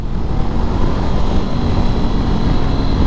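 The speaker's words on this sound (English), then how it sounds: "And it's got a nice exhaust note." A Honda CB500X parallel-twin motorcycle exhaust note while riding, a steady loud drone mixed with wind rush for about three seconds, no talking.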